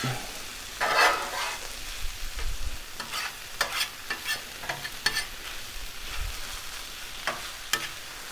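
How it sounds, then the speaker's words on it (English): Potatoes frying on a Blackstone griddle, with a steady close sizzle and repeated scraping and flipping strokes of a spatula against the flat-top, loud and continuous. "Stir our potatoes up a little bit."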